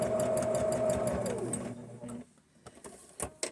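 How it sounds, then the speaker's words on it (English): A home sewing machine runs in a fast steady whirring chatter, then winds down and stops, followed by scattered light clicks and taps as fabric is handled. "Sewing machine wants to act up this morning."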